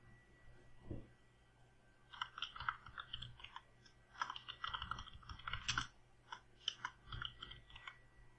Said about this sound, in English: type in the username